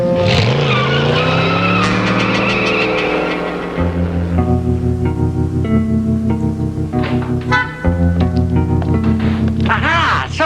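Car tires squeal and skid loudly as a car is parked in a 1960s sitcom, a long screech followed by sliding squeals and engine noise, with a voice heard partway through.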